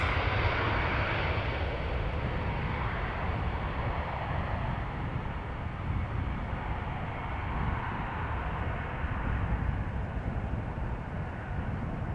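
At Amsterdam airport, an airplane takes off with a broad, steady jet roar that stays loud and then slowly fades as it climbs away, with no voices.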